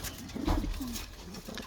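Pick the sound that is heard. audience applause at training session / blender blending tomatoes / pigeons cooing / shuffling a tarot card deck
pigeons cooing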